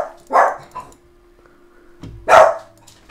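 A dog gives two loud, close barks about two seconds apart, with quiet between them, during a gameshow-style quiz stream.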